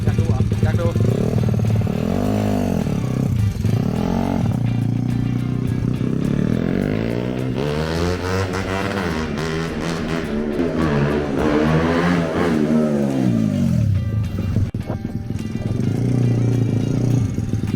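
Tuned Honda Monkey motorcycle engine revved hard on a dyno, its loud pitch climbing and falling across several throttle sweeps while people talk over it throughout.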